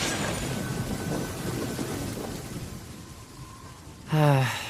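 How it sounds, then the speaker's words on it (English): Steady rain hiss with low rumbling thunder in the video game Genshin Impact fills the background, with a brief louder tonal swell near the end. "Let us find shelter from the rain."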